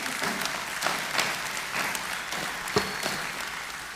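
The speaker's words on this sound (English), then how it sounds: "And a final round of applause to all of our awardees this evening." Applause from an evening awards ceremony audience honouring medal and long-service awardees, a moderate, steady patter of clapping heard at some distance, with no voices over it.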